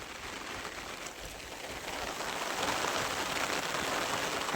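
Rain falls steadily over farmland near a river, a soft even hiss that grows slightly louder toward the end, with no voices.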